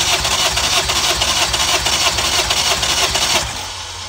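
An engine cranks over for a compression test with a rapid, rhythmic starter churn, loud and close, for about three and a half seconds before it stops and the sound drops to a quieter background.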